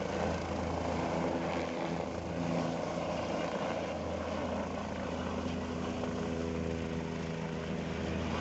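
Helicopter flying along the Kedarnath pilgrimage route, a steady loud rotor and engine drone holding close and constant throughout with no voices.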